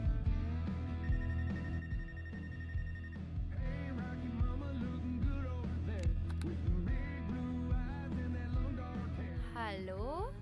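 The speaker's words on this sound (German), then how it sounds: "Mein erster Anruf. Ich gehe lieber ran." A telephone ringing inside a booth in the video game Life is Strange True Colors, repeating trills heard beneath game music and ambience, with a player talking over it.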